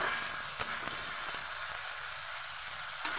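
Spice paste frying in a pan for a chicken curry with small potatoes, giving a steady, close sizzling hiss throughout with a couple of brief soft knocks.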